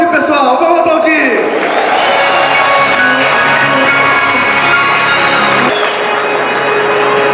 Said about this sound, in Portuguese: me ajudem a receber, por favor, uma salva de palmas, todos os distribuidores que chegaram ao nível de bronze, pessoal, vamos aplaudir!